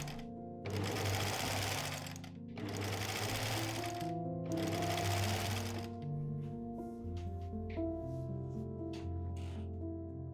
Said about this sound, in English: on my sewing machine.